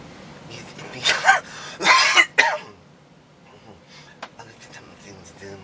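A person's coughing fit: several harsh, throaty bursts close up, followed by quieter rustling and a short sharp sound.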